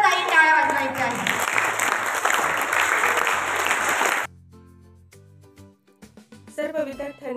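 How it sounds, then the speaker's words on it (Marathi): Students in a school classroom clap together for three classmates after a Marathi Language Day synonym quiz round, a dense burst of applause that stops abruptly after about four seconds, followed by quieter room sounds and a voice. "सर्वांनी या 3 विद्यार्थ्यांसाठी आनंददायी टाळ्या वाजवायच्या आहेत"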